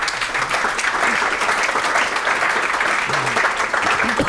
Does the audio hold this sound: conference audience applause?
yes